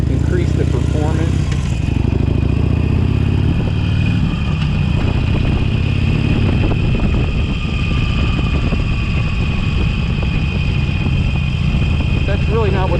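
A 2019 Harley-Davidson 883 Sportster with stock exhaust rumbles at fairly close range, a low throbbing engine note that shifts after a couple of seconds and carries on steadily, with someone talking over it.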